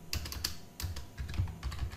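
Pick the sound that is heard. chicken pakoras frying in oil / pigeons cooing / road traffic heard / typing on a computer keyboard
typing on a computer keyboard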